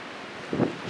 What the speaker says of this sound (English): Winds gusting, I'm sure 40 miles an hour, and that is pretty nasty.